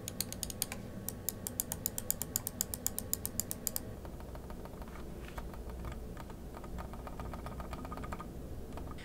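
Logitech MX Master 3S mouse scroll wheel in ratchet mode makes a quick run of crisp, evenly spaced ticks up close, then quieter, sparser clicks follow against a soft background.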